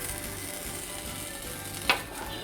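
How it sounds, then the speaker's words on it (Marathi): Rice and broken wheat roasting in ghee in a pan, a soft steady crackling sizzle at low level with one sharp clink or scrape near the end. "ह्याच तुपात आपल्याला हे जे आंबेभोर तांदूळ आहेत हे पण आपल्याला छान भाजून घ्यायचे आहेत"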